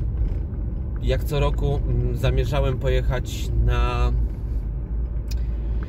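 A steady low rumble fills a car interior while driving, running continuously beneath someone speaking Polish for most of the stretch.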